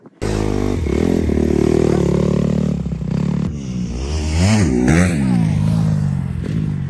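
Dirt bike engine on a motocross vet track, loud and close, holding a buzzing rev and then rising and falling through throttle blips with clattery mechanical noise.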